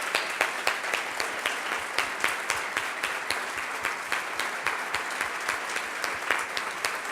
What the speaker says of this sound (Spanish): me gustaría que todos le brindemos un aplauso a Mercedes